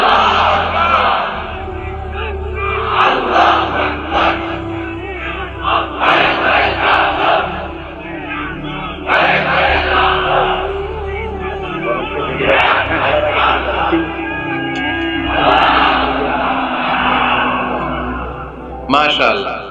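A large crowd at a Bangla Islamic sermon gathering chants the takbir in loud, repeated unison shouts, several surging bursts of massed voices filling the space, with reverberant pauses between the calls.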